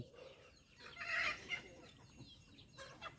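Chickens and ducks feeding outdoors cluck and chatter faintly in the background, with a brief louder burst of fowl calls amid light ambient noise.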